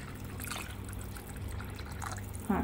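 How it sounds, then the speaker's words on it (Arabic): Water poured into a tagine of chicken with potatoes and broth, a soft steady trickle and splash close by, low and continuous with a brief louder splash at the end. "اذا هكذا نزيد شويه تاع الماء"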